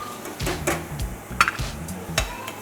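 Crushed garlic going into a pan with green pepper while cooking crayfish thermador: a spoon scrapes and knocks against the pan in several short, close strokes, with one sharper metallic clink midway.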